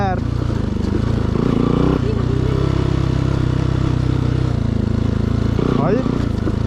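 A dirt bike motorcycle on a rough trail ride, its engine droning steadily and close, revving up and down with rattling and clattering from the bike, with a voice talking over it at times.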